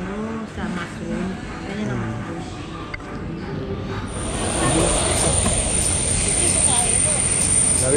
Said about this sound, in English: We are on board a smaller plane.